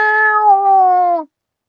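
A human voice imitates a cat's meow: one sustained, clear, loud mew that slides slightly downward and cuts off abruptly.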